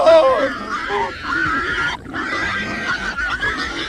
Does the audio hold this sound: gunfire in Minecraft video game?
no